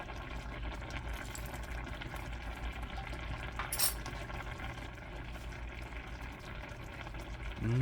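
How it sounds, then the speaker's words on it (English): Steaks simmering in a Steak Diane pan sauce with their juices, giving a steady sizzle and bubbling close up with occasional stirring and a clink of a utensil near the end. "Now let's add our steaks back into the mix, along with any juices that came out of it."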